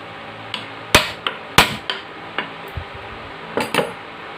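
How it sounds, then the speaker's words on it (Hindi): Hammer tapping a new bearing into place on an air cooler motor, about a dozen sharp metallic knocks in an uneven rhythm, close and fairly loud, with no talking. "अब उसे अच्छे तरीके से हथौड़ी से ठोक कर"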